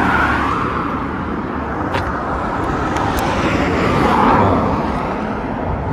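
Steady roar of highway traffic as cars rush past close by, a continuous loud wash of tire and engine noise that swells slightly toward the end.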